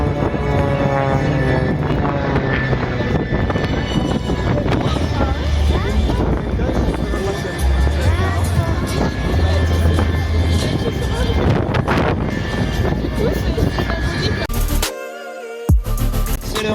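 Propeller aerobatic aircraft engines roar loudly and continuously at an air show in Istres, France, the drone shifting in pitch as the planes fly inverted and turn, with wind buffeting; a sudden brief drop near the end.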